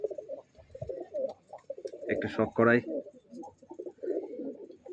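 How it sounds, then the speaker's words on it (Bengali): Male pigeons of Andhra and Madras breeds coo in a home loft, with one loud, close coo burst in the middle while someone speaks throughout. "এই যে আমার ঘরের কিছু নর পায়রা পায়রা এখন সব ফুট করা আছে, এই যে সব বসে আছে মহারাজরা।"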